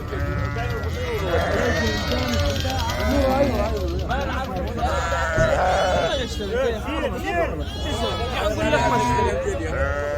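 Sheep bleat repeatedly at a livestock market, several animals calling close and overlapping in a constant loud chorus, with crowd chatter and voices talking throughout.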